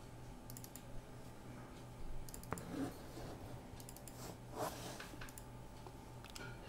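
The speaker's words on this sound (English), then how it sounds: "you have to keep clicking and clicking to run the game" Quiet, repeated clicking of a computer mouse, with sharp little taps scattered irregularly over a faint steady hum and no talking.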